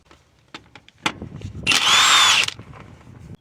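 A power tool spins out a 10mm bolt on a 2011–2020 Toyota Sienna CV axle during a lower control arm job, with a loud sustained whir of about a second after a few sharp clicks and knocks.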